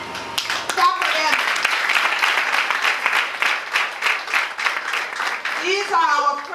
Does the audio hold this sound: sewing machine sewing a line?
no